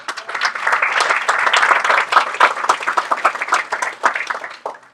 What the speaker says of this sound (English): We need to give you another round of applause.